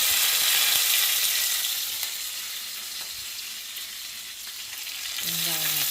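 Garlic sizzles steadily in hot oil with mustard seeds and curry leaves, a dense continuous frying hiss close up that eases slightly midway before a brief clink of a utensil near the end.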